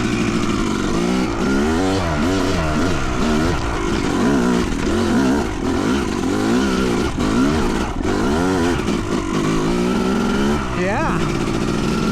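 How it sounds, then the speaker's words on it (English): A Yamaha YZ250 two-stroke dirt bike climbs a hill in Colorado, its engine revving loudly and continuously with rising and falling pitch, close and strong throughout. "let's see if the old man can get up this on the YZ250."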